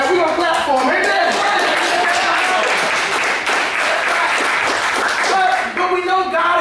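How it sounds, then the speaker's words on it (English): Congregation in church breaking into loud, continuous applause, thick overlapping clapping mixed with cheering voices and an underlying musical tone, sustained at close range. "And we're going to clap for him."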